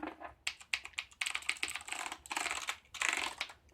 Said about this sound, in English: hear the click of MX Blue